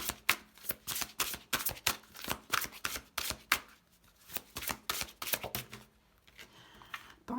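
Oracle cards being shuffled by hand to draw a manifestation card, a close, dense run of crisp riffling flicks and slaps that continues for several seconds before easing off near the end.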